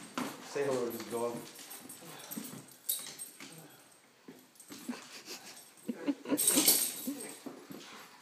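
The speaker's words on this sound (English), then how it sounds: "Say hello to this dog." A dog whimpers and whines in short high cries, mixed with people talking close by.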